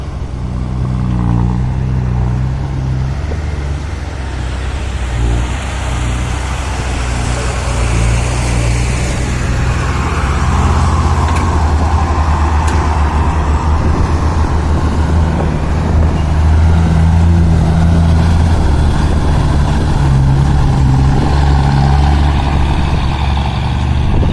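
A truck hauling soil runs its engine loud and close throughout, a steady heavy rumble that swells slightly as it works, with no voices over it.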